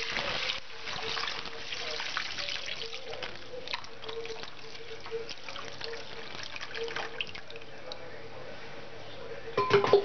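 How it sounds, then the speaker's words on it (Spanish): Water poured into a paella pan for rice with peas, a steady trickle and splash with light clinks of cookware, close and moderately loud, with talk over part of it. "Y le vamos a echar agua."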